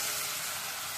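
Cardamom pods and a single clove hit hot oil in a home kitchen pan, giving a steady, loud, close sizzle with no pauses and no voices.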